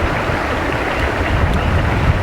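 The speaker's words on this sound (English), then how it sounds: "Nice little creek flowing in here." Creek water rushing near a parked boat, with a steady, dense wash of flowing water, close and loud, and no voices over the short stretch.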